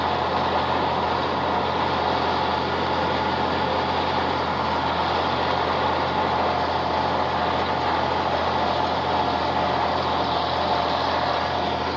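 A White 2-70 tractor pulling a hay rake across a field, its engine giving a loud, steady, continuous diesel drone with no break and no voices.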